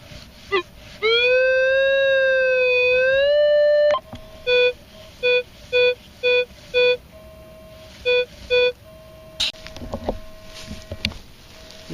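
Minelab E-Trac metal detector signal tones on a shallow 1119 target: a loud rising, wavering tone, then a run of short, evenly spaced clipped beeps and a few more tones, close and clear with no talk.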